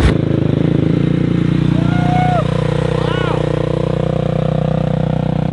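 A quad ATV ridden up onto two wheels, its engine holding a loud, steady buzzing drone close by, with brief rising and falling pitch swells as the throttle shifts.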